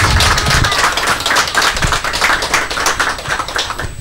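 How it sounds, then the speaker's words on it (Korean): Church congregation clapping at a church founding thanksgiving service as a pioneering fund gift is handed over, steady dense applause filling the room for about four seconds with no talk. "박수."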